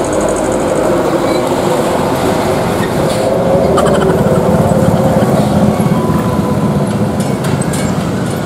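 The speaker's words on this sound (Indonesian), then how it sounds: "ada kereta. Bentar lagi dia lewat, teman-teman." A train rumbles past the Cisauk level crossing on the rail line in Tangerang, a steady loud roar with wheel and engine noise filling the whole stretch at close range.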